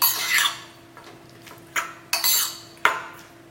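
Prawns are mixed with salt in a metal bowl. A spoon scrapes and clinks against it in a few short, uneven bursts, close by and fairly quiet.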